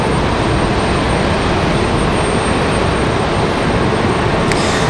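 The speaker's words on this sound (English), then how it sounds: "So there you go, Flower on the move from Frontier Airlines." Frontier Airlines airplane moving at Raleigh-Durham International Airport, heard as a loud, steady broadband engine roar that fills the whole span without letup.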